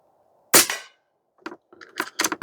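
A single sharp crack from an Air Venturi Avenge-X .22 caliber PCP airgun, loud and close with a short decaying ring, followed by softer metallic clicks and handling noises.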